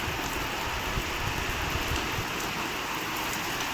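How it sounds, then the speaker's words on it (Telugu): Heavy rain pours steadily outside a house in a dense, unbroken hiss, with water driving in through the ventilators. The downpour stays even and close, with no voices over it. "బయట వాన ఒక రేంజ్లో అంటే ఒక రేంజ్లో పడుతుంది."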